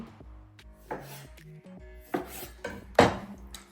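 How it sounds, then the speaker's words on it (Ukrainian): A knife cuts cherry tomatoes in half on a kitchen board, giving a few distinct close taps and slicing knocks at an irregular pace. "тепер візьмемо буквально декілька штучок помідорок черрі. Розріжемо їх навпіл."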